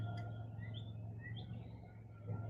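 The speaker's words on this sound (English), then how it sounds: "Birds are a great background track." Birds chirp and tweet faintly outdoors in short, scattered calls over a steady low hum, with no talking.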